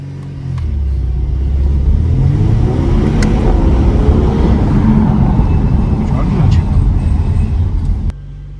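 A 2023 Audi A5 S-Line performs a launch control start: after a brief idle the engine rises into a loud, sustained roar of hard acceleration that climbs through the revs before cutting off abruptly, with a voice speaking over it.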